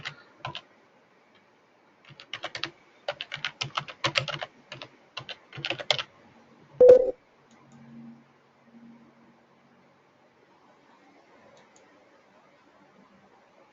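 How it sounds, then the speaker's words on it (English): Bursts of clicking keystrokes on a computer keyboard, fast and irregular, then one louder knock and a quiet low hum. "I'm typing the same stuff that I've been typing through this demo."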